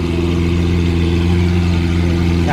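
Lamborghini Aventador idling up close, a loud, steady deep rumble with strong even tones that holds unchanged throughout with no voices over it.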